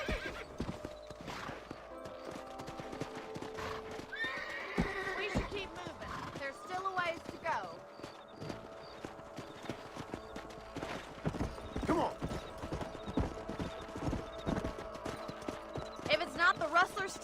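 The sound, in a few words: horses galloping and neighing, Red Dead Redemption video game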